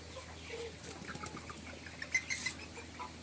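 Hens in a poultry shed for laying eggs cluck faintly at a distance, with soft rustling and a brief flutter of wings over a steady background hum.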